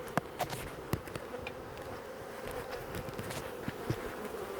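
Steady, dense buzzing of many honey bees at close range at a hive in Australia, a continuous drone with occasional individual bees zipping past.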